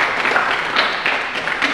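Applause from a classroom group for Mas Umar during a teaching session, a steady patter of clapping lasting the whole moment without pause, fairly close and moderately loud.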